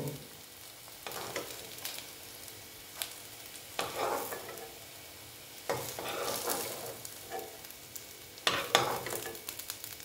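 Soya chunk koftas fry in hot oil, giving a steady close sizzle with louder crackling bursts as the pieces are stirred and turned.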